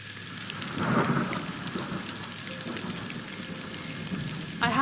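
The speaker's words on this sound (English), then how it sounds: "I could just pop in a storm at the end there." A thunderstorm with steady rain pattering on surfaces, a low rolling thunder swell near the start and another rumble at the end, used as an added sound effect, with no voices.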